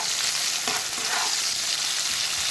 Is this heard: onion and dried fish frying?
yes